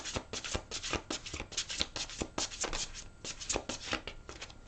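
Rapid papery riffling and slapping of a tarot deck being shuffled repeatedly, close and continuous.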